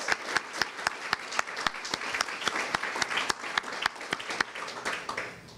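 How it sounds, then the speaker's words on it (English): A small audience applauds at a business luncheon at the Tower Club, with distinct, fairly evenly spaced claps carrying on for several seconds in a roomy space before easing off. "So I think the GLBX Council deserves a round of applause."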